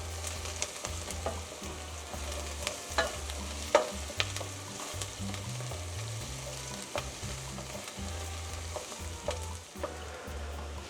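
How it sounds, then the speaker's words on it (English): Garlic and browned onions sizzle and crackle in a pan, with frequent soft clicks and scrapes of stirring throughout, close and steady without any talk. "Let's get this garlic in there. Let's mix that through."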